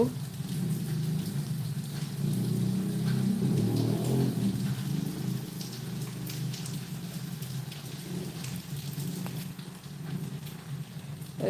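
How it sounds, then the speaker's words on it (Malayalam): Steady rain falls throughout, a continuous dense hiss of drops on surfaces that stays fairly loud and even, with no talking. "അതെ മഴയൊക്കെ"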